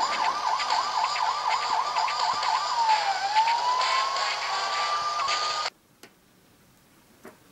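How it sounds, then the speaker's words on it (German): A police siren in the Lego City Undercover video game wails loudly, first in rapid yelping cycles and then in a long rising tone, before cutting off abruptly into near silence with a couple of soft knocks. "Ich hab eine Sirene an."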